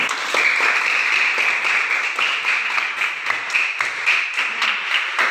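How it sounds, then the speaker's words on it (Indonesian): Students in a classroom applaud after group discussion work, many hands clapping in a loud, continuous patter that stays fairly even from start to finish. "Ya, berikan tepuk tangan dulu"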